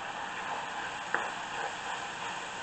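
Ground beef with onions frying in a pan for a Korean beef rice bowl, a steady soft sizzle with one faint clink partway through, no voices.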